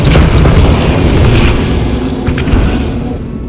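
An Incendio fire spell is cast in Hogwarts Legacy inside the Feldcroft Catacombs, giving a loud, deep, roaring burst that rumbles steadily before slowly easing off, with no talking.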